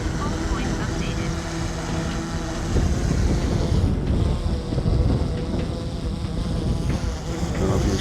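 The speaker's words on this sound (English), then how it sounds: "It is windy this morning." Gusty morning wind buffets the microphone outdoors in a steady low roar, with a faint high insect-like whine of a DJI Mavic 3 drone in the background.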